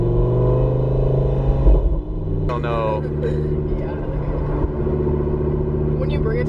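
A Lamborghini engine rumbles deep and loud up close, then drops to a lower steady idle, while people talk over it.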